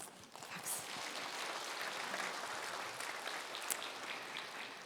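A church congregation claps during a prayer service, a soft, steady patter of applause heard faintly and continuously.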